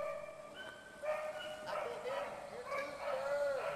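Hunting dogs on a rabbit chase bay and yip in repeated, drawn-out howling barks from some distance, rising and falling over a couple of seconds, while people talk quietly underneath.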